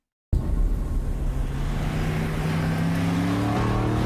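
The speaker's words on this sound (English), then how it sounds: "there's a pretty beautiful exhaust note." A car's engine and exhaust note rising steadily in pitch as it revs or accelerates, a continuous loud droning roar with climbing harmonic tones, heard alone without talk.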